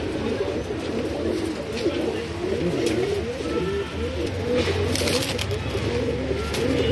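Madrasi old-generation male pigeons cooing in low, rolling, overlapping calls that carry on steadily throughout, close by, with faint background noise and occasional soft rustling.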